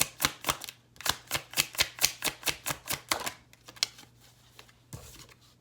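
A deck of tarot cards is riffled and shuffled close up, a steady run of rapid rhythmic flicking slaps that tapers into softer rustling and a final tap.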